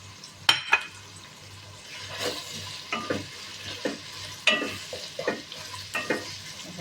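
Vegetables and spices sizzle and fry in a pan for a vegetable alicha, with a spoon scraping and stirring in uneven, repeated strokes close by over a steady crackle.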